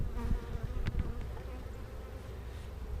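Honey bees buzz around hive brood boxes in a continuous close drone, a dense hum of many wings that holds steady throughout.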